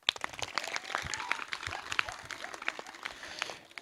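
Scattered clapping from a small group of schoolchildren, light and uneven, with a little background chatter mixed in.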